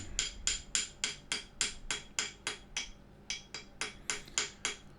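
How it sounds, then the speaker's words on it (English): Light metallic taps of a slightly domed engraving hammer setting copper wire into a metal inlay ring out in a quick, steady rhythm, about a dozen sharp strikes close up with one brief pause midway. "all we need to do is hammer that copper in"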